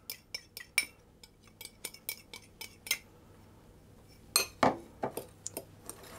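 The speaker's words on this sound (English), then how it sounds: "I'll just mix that around" Spoon clinks and scrapes against a bowl as sugar and corn flour are mixed into plums for a plum crumble pie, a run of sharp, quick taps and rattles close by, with a short pause midway.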